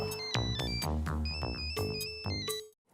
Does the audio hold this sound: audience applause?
no